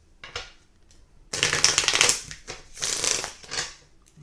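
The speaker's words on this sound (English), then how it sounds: "let me shuffle" A deck of cards riffled close up: a quick soft flutter, then a longer burst of crisp rapid rustling and snapping in several bursts.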